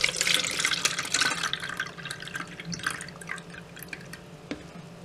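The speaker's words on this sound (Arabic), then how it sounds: "وبعد ما البلح يتنقع معانا هنصفيه من المية بتاعته" Water dripping and trickling as soaked dried dates are strained for Ramadan khoshaf with sobia, close irregular splashes and drips, busiest at first and then thinning to scattered drops.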